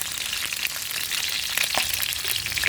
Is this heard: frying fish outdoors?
yes